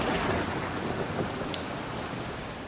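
A sudden heavy rain shower in a forest camp, dense and continuous hiss of drops pattering on surfaces, loud and close with no voices.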